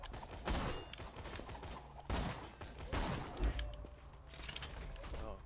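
Gunfire in the video game Borderlands 2, heard as several separate sharp shots a second or so apart with mechanical clicks between them, fairly quiet and mixed with low background game noise.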